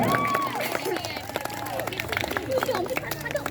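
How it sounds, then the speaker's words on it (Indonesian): Supporters at a school tug of war contest clap and cheer together, a steady mass of handclaps and crowd noise close by, with a host talking over the din. "Tepuk tangan semua."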